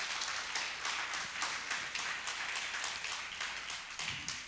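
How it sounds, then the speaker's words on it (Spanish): Church congregation clapping together during a Sunday service, a steady wash of many hands continuing at even strength, with a brief low voice near the end. "Dale un aplauso al Señor por la palabra"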